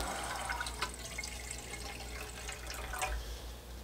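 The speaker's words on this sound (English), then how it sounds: "we're going to add the rest of our quart of water." Water is poured into a pan of Jacquard acid dye on a hot plate for dyeing rabbit fur, a steady close splashing and trickling that runs throughout, with no one talking.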